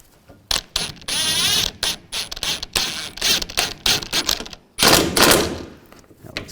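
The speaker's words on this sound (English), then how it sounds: "I'm going to snug the other side first and then tighten them all down." A tool works the radiator mounting bolts on a 2005-10 Volkswagen Jetta, giving close, sharp bursts of ratcheting and mechanical clatter broken by brief pauses, with no speech.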